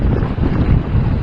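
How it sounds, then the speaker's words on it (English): Brisk wind blowing over Lake Erie aboard a trimaran sailboat, a loud steady rumbling roar buffeting the microphone, with no voices. "Yeah, it's blowing at least 6. Nice brisk breeze this morning."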